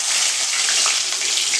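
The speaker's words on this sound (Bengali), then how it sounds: "অল্প একটু পেঁয়াজটা রেখে একটু পেঁয়াজটা ভেজে দিচ্ছি।" Onions frying in a pan give off a steady, dense, close-up sizzle that stays even and loud throughout, with no voices.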